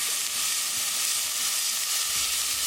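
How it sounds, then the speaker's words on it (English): Chopped onion frying in a pot makes a continuous, even sizzle throughout, close and fairly loud, with no talking. "Cook onion until they get translucent."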